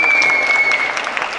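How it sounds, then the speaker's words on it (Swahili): Dense crowd applause fills a hall during a political manifesto launch at KICC in Nairobi, a steady, loud wash of many hands clapping with no gaps. "makofi kwake."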